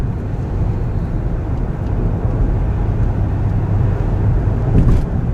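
A car driven normally on the road while being checked for a suspension noise gives a steady, loud low rumble of engine and road noise throughout, with no clear knock or clunk and no talking.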